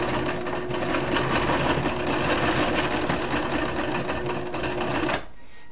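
Home sewing machine stitching a seam on roll-up summer shorts, running steadily and close for about five seconds, stitching forward and back over the seam edge before cutting off abruptly.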